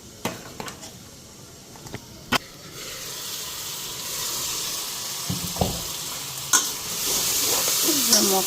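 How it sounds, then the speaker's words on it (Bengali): Spices with salt and turmeric frying in a home kitchen pan, with a continuous sizzle, sharp clinks and scrapes of a spoon stirring, and a brief splash of water near the end. "মশলাটা ভাজা হয়ে গেছে"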